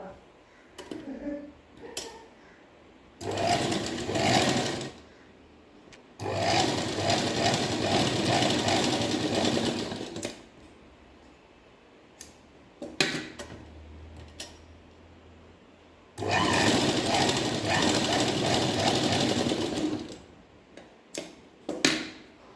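A sewing machine stitching a dart on a blouse front runs in three loud bursts of rapid mechanical whirring, a few seconds each, separated by quieter handling clicks and small knocks at close range.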